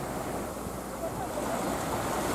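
Waves washing onto a white sand beach on the Gulf of Mexico in Cuba, a steady soft surf hiss with wind across the microphone, continuous and fairly quiet.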